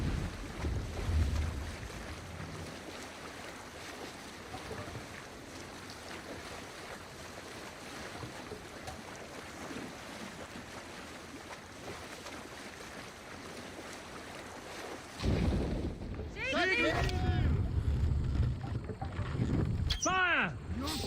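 A Viking rowing ship sails at sea in Assassin's Creed Valhalla, waves and wind washing steadily around it, growing louder and rougher near the end as splashing water surges in, with voices speaking over it.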